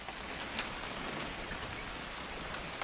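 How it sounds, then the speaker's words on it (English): Steady rain falls in the video game What Remains of Edith Finch, a dense even patter with a few sharper drop hits, constant and moderately loud, no one speaking. "It's gonna rain the whole weekend,"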